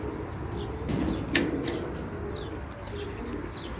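Pigeons in a pigeon tower coo softly nearby, with one brief burst of wing flapping and a few faint chirps over a low background rumble.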